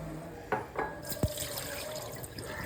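Soaked chana dal being rinsed in water, a few sloshing swishes and a splash followed by a steady light trickle of water, close and fairly quiet.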